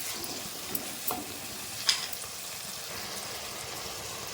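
Tomatoes sautéing in a pan for a kandangathiri kuzhambu, a soft continuous sizzle with a few light stirring clicks and scrapes, fairly quiet and close, no voices.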